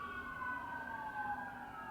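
An ambulance siren wails steadily outside in a busy area, faint and distant, with a continuous tone that sweeps slightly and never stops.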